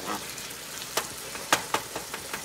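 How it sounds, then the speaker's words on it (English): Ground chuck frying in a pan, a continuous soft sizzle broken by several sharp crackles and pops, close and fairly quiet. "this meat frying like that"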